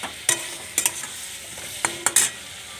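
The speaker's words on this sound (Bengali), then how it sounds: "দিয়ে দিলাম জল পরিমাণ মতো।" A sizzling curry in a pot as water is added: a few short bursts of hissing spatter and spoon scrapes separated by quiet gaps, close and moderately loud, with no voices.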